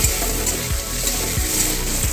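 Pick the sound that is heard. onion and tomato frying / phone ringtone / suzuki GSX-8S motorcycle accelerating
onion and tomato frying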